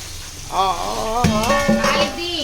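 Ivy gourd (tondakaya) fries in a pan with a steady low sizzle, while a voice talks over it for most of the stretch.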